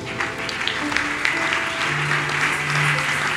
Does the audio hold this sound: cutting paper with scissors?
no